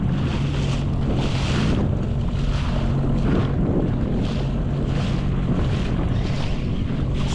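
A SeaDoo personal watercraft runs offshore at speed, its steady engine drone mixed with rushing water, wave slap and heavy wind buffeting the microphone throughout.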